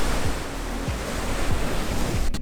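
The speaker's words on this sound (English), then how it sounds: "there's a big wave coming" Surf breaking against a cliff on a rocky shore at Punta Sur, Isla Mujeres, Mexico, a steady roar of ocean water with wind buffeting the microphone and a brief harder burst at the very end.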